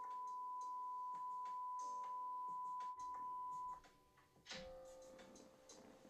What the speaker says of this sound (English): I'm going to tell them why Johnny puts a beep over this part of the show